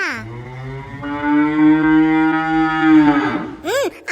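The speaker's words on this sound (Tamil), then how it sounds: "இதுதான் அந்த முரட்டு காளையா" A fierce cartoon bull gives a long, deep, drawn-out moo that rises and holds, loud and close, followed by a short higher-pitched cry at the end.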